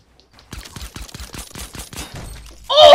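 Suppressed pistol shots in the Fortnite video game ring out in a quick series of about ten muffled, evenly spaced pops, followed by a loud, bright shattering hit at the end.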